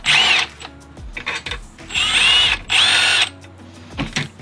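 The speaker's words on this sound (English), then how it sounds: "Undo this bolt, holding the alternator to the AC bracket." A power tool, likely an impact or ratchet driver, undoes the alternator-to-AC-bracket bolt on a Subaru with a fault causing an idle dip, making several loud, high whirring bursts with clicking between them, close up.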